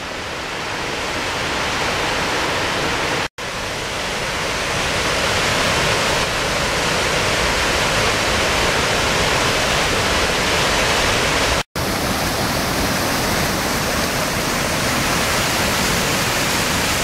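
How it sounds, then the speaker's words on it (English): Rushing waterfall on Dukes Creek along the Raven Cliffs Trail, a loud, steady broadband roar of falling water heard up close, unbroken except for two brief dropouts. "Pretty nice little waterfall here."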